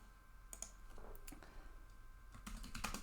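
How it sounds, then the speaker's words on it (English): Fingers type on a computer keyboard in a quiet room, tapping in short irregular bursts of close, light clicks with brief pauses between them, and no one speaking. "So I'll type that out."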